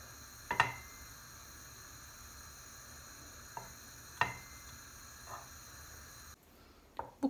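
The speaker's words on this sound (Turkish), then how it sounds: "Yağ eriyene kadar karıştırmaya devam ediyoruz." A spoon stirs a tablespoon of butter in a pan until it melts, giving a soft, faint sizzle with a few sharp clicks and scrapes spread out over it.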